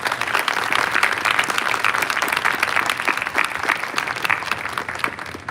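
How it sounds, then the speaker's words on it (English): A crowd applauds cadets marching in formation at an outdoor Mother's Day parade, the clapping dense, steady and fairly loud throughout with no talking over it. "let's give them another great big round of applause"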